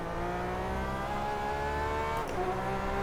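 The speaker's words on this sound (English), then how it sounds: "here we are about to begin our lap at Nordschleife on board the Porsche" A Porsche 911 RSR race car engine in rFactor 2 on the Nürburgring Nordschleife, a steady loud onboard engine drone with harmonic whine that briefly dips, as if on a gear change, before carrying on.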